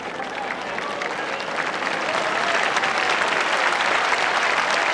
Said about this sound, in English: Tremendous applause for Willie Wood